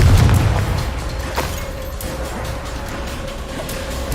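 A Confringo blasting spell explosion in Hogwarts Legacy, a deep booming burst at the start that decays into a low rumble and faint background tones.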